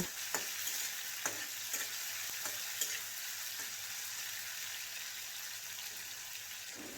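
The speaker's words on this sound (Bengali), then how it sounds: "তেলটা ভালো করে গরম হয়ে গেলে প্রথমে আমি চিংড়ি মাছগুলোকে ভেজে নেব" Small prawns rubbed with salt and turmeric fry in hot mustard oil, making a steady, dense sizzle. A few light stirring clicks come early and then fade into the continuous hiss.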